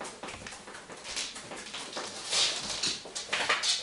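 A dog whimpers and whines nearby in an indoor room, with restless high-pitched cries rising and falling over several seconds amid faint background noise.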